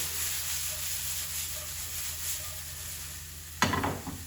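Onions and garlic sizzle steadily in a frying pan while being stirred, a continuous close frying hiss ending with a sharp utensil clatter near the end.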